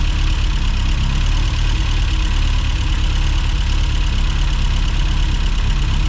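A Mini John Cooper S engine idling with its fuel return pipe clamped off, a steady, loud low rumble with a continuous even drone and no breaks or revving.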